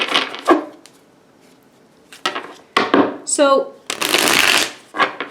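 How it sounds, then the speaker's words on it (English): A tarot card deck being shuffled, several brisk riffling and shuffling bursts, close and fairly loud, with a person speaking between the shuffles. "I'm going to start by shuffling the cards."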